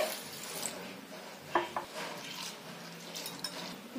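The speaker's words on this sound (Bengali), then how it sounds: "ডালটাকে ভালো করে ধুয়ে নিতে হবে" Chana dal lentils are washed by hand in a bowl, giving sparse, soft clinks and rattles with a few sharper knocks, close and fairly quiet.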